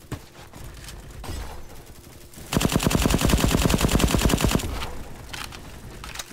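Automatic gunfire in the Roblox shooter Bad Business, with bursts of rapid machine-gun fire that swell into a loud, sustained volley and then trail off into scattered shots.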